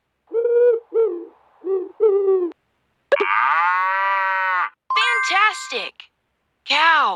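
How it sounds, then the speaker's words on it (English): A cow moos several times in long, drawn-out calls, loud and close, with no talk. "Cow."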